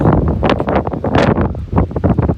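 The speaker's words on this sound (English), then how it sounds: "Oh, it is windy though." Strong wind buffets the microphone in loud, uneven gusts on a winter hike at Kuwohi, Tennessee, a continuous roaring rumble with no voices.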